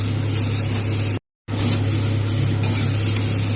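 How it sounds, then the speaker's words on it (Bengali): Kohlrabi pieces fry with salt in a pan, producing a loud, even, hissing sizzle that runs almost unbroken, cut by one brief moment of total silence partway through. "নুন দিয়ে ভালো করে ওলকপিটাকে আবারও একটু ভেজে নেব।"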